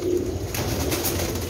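Pigeons cooing in a loft kept by a hobby breeder in Jhelum, with low, steady coos running throughout at close range against a constant background hum.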